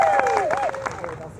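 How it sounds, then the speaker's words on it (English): An audience applauds at a Pride community event in International Falls, giving steady scattered clapping with crowd murmur and a thin sustained whine running through. "let's give her a round of applause"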